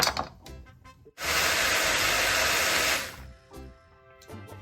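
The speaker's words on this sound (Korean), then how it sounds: "마늘은 엄마 다 넣어서 갈아" An electric grinder whirs loudly and steadily for about two seconds while grinding garlic for beef bulgogi, starting abruptly and winding down, with quieter kitchen clatter around it.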